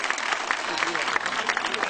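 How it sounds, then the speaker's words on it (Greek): A dense, steady wash of applause from an audience cheering young children at a Greek kindergarten and nursery school event, loud and continuous throughout without a break. "Χειροκρότημα"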